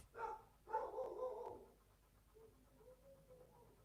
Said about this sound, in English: He's barking at somebody.